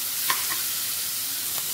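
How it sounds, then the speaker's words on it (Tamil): Goat liver sautés with onion and tomato in a pan, a soft, even sizzle with a couple of faint stirring clicks over a short stretch, close and alone. "வெங்காயம் தக்காளியோட சேர்த்து வதக்கி விடுங்க"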